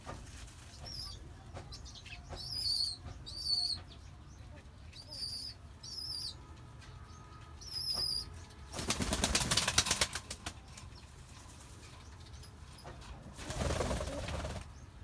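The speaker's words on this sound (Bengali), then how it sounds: "ঠিক কোয়েল পাখি তো সে উড়াল দিচ্ছিল" Quail in a new coop shared with chickens and pigeons chirp a few times, then flap their wings in two loud rustling bursts, one lasting about a second and another near the end.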